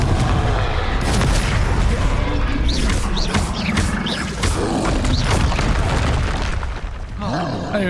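Confringo blasting curses explode repeatedly in Hogwarts Legacy, with a string of booming, crashing bursts rolling through chaotic fantasy combat for several seconds.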